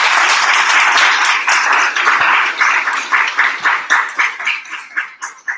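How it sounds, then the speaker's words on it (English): Loud audience applause after a public debate round, a full burst of clapping that thins out into separate, spaced claps as it fades toward the end. "Let's give them a round of applause."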